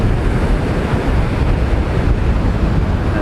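Strong wind and rough surf roar steadily at Nai Harn Beach, Phuket, on a windy day with kite surfers out. The wash is loud, dense and unbroken, with gusts buffeting the microphone throughout.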